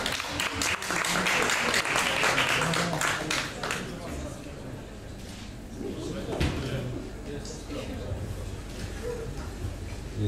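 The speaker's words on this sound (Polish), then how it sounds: "Brawa!" Audience applause at a photography awards ceremony in Poland, a steady crowd of clapping that holds through the whole stretch, loud at first and easing slightly, with voices mixed in.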